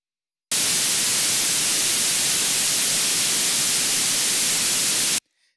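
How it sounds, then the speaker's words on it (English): Steady white noise from a noise generator in Pro Tools, a loud, even hiss that starts abruptly after a brief silence and cuts off cleanly about five seconds later. "this noise generator by itself sounds like this."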